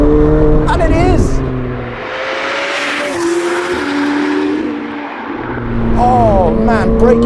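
McLaren 765LT Spider engine heard from inside the open-top car while driving, a loud, continuous roar with rising and falling revs, tire noise and wind, with someone talking over it at the start and end.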